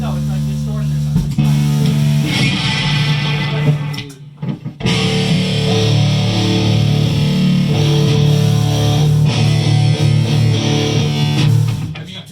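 An electric guitar strums a big power chord through a distortion effect, sustained and loud, cut off briefly near the middle before ringing out again, with voices talking faintly around it.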